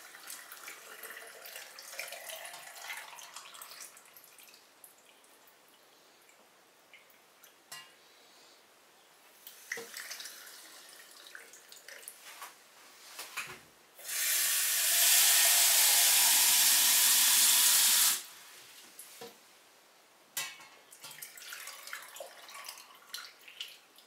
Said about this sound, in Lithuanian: Imam šalto vandens